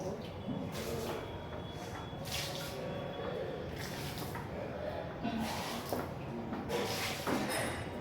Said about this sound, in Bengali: এবার সবকটা এই বালতি থেকে একটু একটু করে জল দিয়ে দেবো।